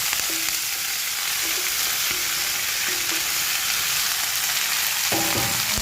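Chopped passion fruit leaves fry in hot oil with mustard seeds and curry leaves, giving a loud, dense, continuous sizzle close up, with light stirring knocks and a few faint tones.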